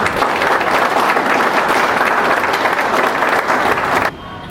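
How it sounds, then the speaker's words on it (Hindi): Loud, dense applause from an audience at a motivational seminar in India runs continuously, then drops off abruptly near the end, leaving a quieter room. "आप सभी की एक बार जोरदार तालियां चाहूंगा, जोरदार तालियां"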